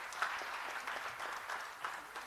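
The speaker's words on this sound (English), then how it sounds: "give yourselves a good round of applause" Audience applause after a ministerial address, a steady dense wash of clapping hands sustained throughout with small swells, heard alone without talk.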